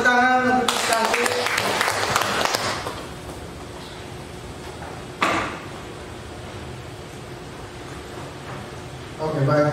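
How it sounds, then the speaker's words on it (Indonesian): Brief burst of audience clapping at an Indonesian school gathering, lasting about two seconds before fading into quiet room tone, with voices speaking around it. "Kita tepuk tangan untuk cantik."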